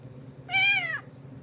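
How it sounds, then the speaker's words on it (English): A cat gives a single clear meow, rising then falling over about half a second, fairly close against a quiet low hum. "There's a cat apparently around here somewhere."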